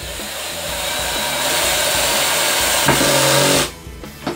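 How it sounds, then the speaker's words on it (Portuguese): A cordless screwdriver drives a screw into wood until its clutch slips and ratchets, giving a loud, steady mechanical buzz with rapid clicking that runs close up and then cuts off abruptly near the end. "Ouviram? Isso é a catraca."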